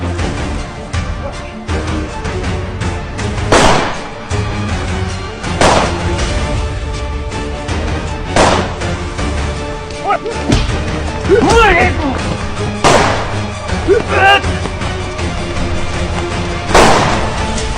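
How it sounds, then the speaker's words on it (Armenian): Gunfire in a film shootout, with people shooting at each other: loud, sharp shots every few seconds cut through a busy soundtrack while voices talk underneath. "կրակում են իրար վրա"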